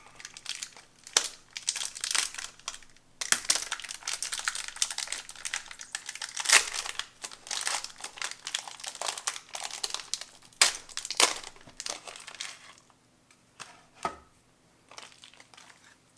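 A crinkly plastic wrapper on a Scotch Finger biscuit ration pack is opened up close, giving irregular crackling rustles and sharp crinkles with short pauses.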